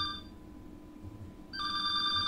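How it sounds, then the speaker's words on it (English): A mobile phone rings with an incoming call, a bright electronic ringtone heard briefly at the start, then a pause, then sounding again clearly and steadily, fairly faint against quiet background. "someone is calling me on my cell"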